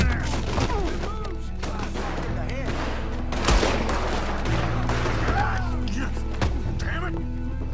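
Rapid gunfire in the Western video game Red Dead Redemption 2, dense overlapping shots and sharp cracks in quick bursts with a few heavy booms, mixed with game music and shouting voices.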